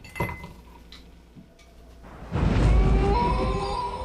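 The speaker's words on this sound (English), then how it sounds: "I'm going to put in some ice cubes first" Cold ice cubes go into a blender for Halloween carrot apple juice: sharp glassy clinks and taps come first, then a loud, dense rattling clatter that sustains to the end.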